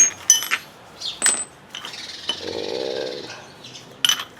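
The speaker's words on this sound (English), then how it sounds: "So I'm gonna do a 16 mil socket on the impact." A 16 mm socket goes onto an impact wrench in a home garage during a rear air-ride install on an MK4 Jetta: sharp metallic clinks and rattles, then a brief sustained whir before another clatter, all close and with no talk.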